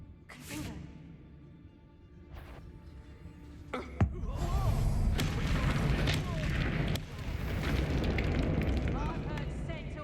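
A Confringo blasting spell in Hogwarts Legacy fires with a sharp crack followed by a sustained roaring explosion and rumbling debris, loud and close, while voices from the game are heard speaking.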